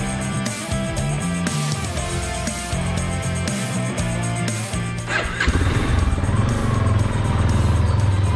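A Yamaha Tenere 250 motorcycle engine drones steadily while riding on the road toward Itaitu, Jacobina, Bahia, Brazil, a loud continuous hum with wind rush, rising slightly in intensity partway through.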